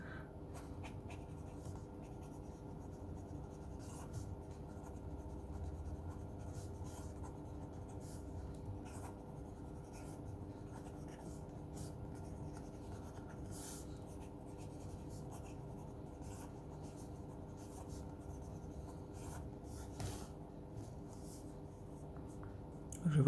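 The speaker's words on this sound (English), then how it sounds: "a bit of writing more with this because I enjoyed writing with this pen" Kanwrite Heritage fountain pen with a custom two-on-one grind nib writing on paper, soft close scratchy strokes in an irregular, continuous rhythm against a quiet room.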